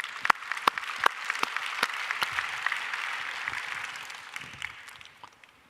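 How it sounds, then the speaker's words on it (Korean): An audience at a church prayer conference claps together, a dense wash of applause with distinct sharp claps standing out, holding steady before tapering off near the end. "박수합시다."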